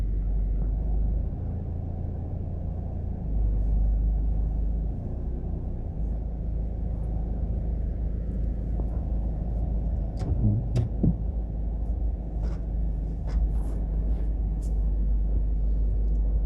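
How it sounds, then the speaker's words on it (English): A car pulls out of a Burger King drive-thru in Harbour View, Jamaica, under a steady low engine rumble. Traffic noise fills the background, with a few faint clicks and knocks partway through. "There's a car coming out of the drive-thru."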